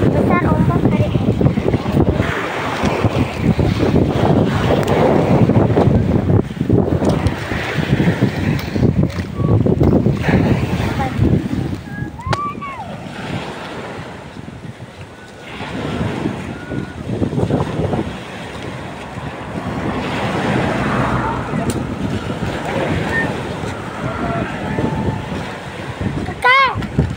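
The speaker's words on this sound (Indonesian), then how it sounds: "Besar ombak hari ini." Big ocean waves crash and surge while strong wind buffets the microphone in heavy rumbling gusts, with occasional splashes and brief human sounds over nearly half a minute.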